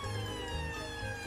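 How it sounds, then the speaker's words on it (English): Cartoon ambulance siren in Peppa Pig as the vehicle drives off, a steady, wailing tone held throughout at moderate level with no talk over it. "Peppa and Dr. Brown Bear quickly jump into the ambulance and drive off to the park."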